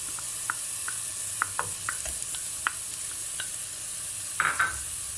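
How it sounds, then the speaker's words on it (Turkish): Boiled green lentils are stirred through tomato paste and tomato puree in a pan, giving soft scraping clicks of a spoon over a steady low sizzle, close up, with no voices. "Yeşil mercimekleri salça ve domates püresinin içinde çok kısa bir süre çevirdikten sonra"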